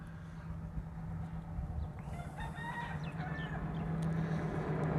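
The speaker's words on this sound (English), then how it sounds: "They cluck all night long." A rooster crows and chickens cluck at night in Hawaii, fairly distant and steady over a constant low hum and background noise, with no talking.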